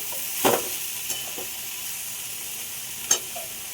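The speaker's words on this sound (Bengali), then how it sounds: "জিরেগুলো ভালো করে মিশিয়ে নেব" Cumin seeds sizzle steadily in a pan on low gas, with a few sharp clinks and scrapes from stirring close by.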